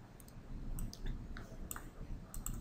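A computer mouse clicks a few times in short, sharp bursts while selecting a download version, close and fairly faint against a steady background hum.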